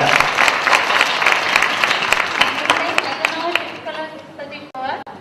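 Enthusiastic audience applause for make-up artist students at a Pune academy stage show, loud sustained clapping that thins out and fades near the end.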